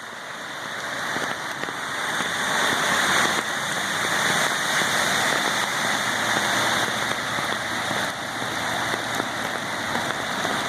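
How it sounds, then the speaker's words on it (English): Heavy rainstorm during flooding, a dense steady roar of rain pounding surfaces that swells slightly in the middle and holds loud and close throughout, with no voices. "This is a rainstorm right here."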